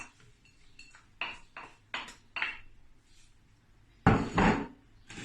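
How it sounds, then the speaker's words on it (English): Falafel ingredients being stirred together with fava beans in a bowl, giving a few scattered clinks and scrapes of utensil against dish, with louder knocks near the end. "So we're gonna mix this with the fava beans."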